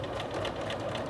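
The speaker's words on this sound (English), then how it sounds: "here we are at the sewing machine. We are ready to sew that little 5/8 of an inch seam." Sewing machine stitching a 5/8-inch seam on a hoodie pocket, running steadily at close range with a continuous motor whir and rapid needle rhythm, no talk.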